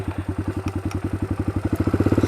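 A motorcycle engine pulses in fast, even throbs for a standstill wheelie, the beat quickening and growing louder toward the end, close and alone.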